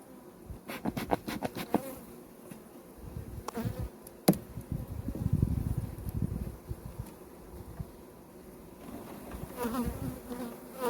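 Buckfast honey bees droning softly around an opened hive, a continuous quiet buzz broken by a few sharp knocks and clicks from frames being handled.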